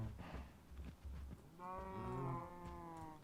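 Cattle in Minecraft give a drawn-out, sustained moo in the second half, following a few softer animal grunts and shuffling sounds, with no talk.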